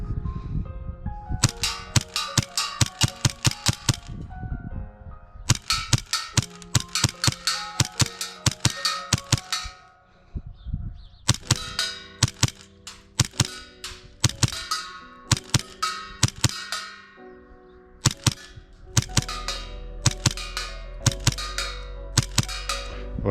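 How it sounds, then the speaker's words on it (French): A custom Hi-Capa airsoft pistol is fired at 20 cm targets outdoors from roughly 20 to 35 metres, sharp loud cracking shots in rapid pairs and strings with brief gaps between volleys. "je tire sur une cible de 20 cm et je suis à peu près à 35 mètres"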